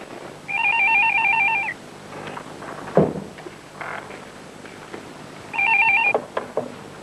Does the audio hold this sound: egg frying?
no